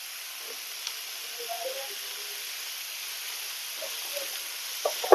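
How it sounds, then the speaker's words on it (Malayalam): Spices with turmeric powder sautéing in a pan for a Malabar chicken cake give off a steady, soft broadband sizzle and hiss throughout, with a few faint scraping stirs and a brief clatter near the end; no one talks. "നമുക്ക് നല്ല രീതിയിൽ തന്നെ വഴറ്റാം"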